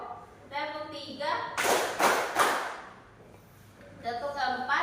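A group claps together in short counted bursts, around three close claps in a row, with children's voices chanting between and after the clapping.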